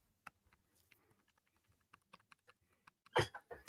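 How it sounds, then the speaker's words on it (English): Keystrokes on a K7 Max keyboard with low-profile linear red switches, a string of soft, quiet, uneven clicks spaced apart, ending in a louder burst of rapid clattering. "I don't know if you can hear the keys"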